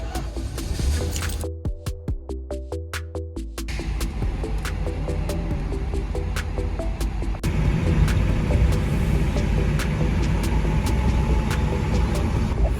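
A van leaving a shipping port after container shipment from Panama to Colombia, its engine giving a loud, steady rumbling hum with throbbing pulses and scattered clicks throughout, no voices.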